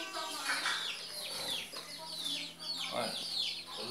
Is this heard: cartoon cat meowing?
no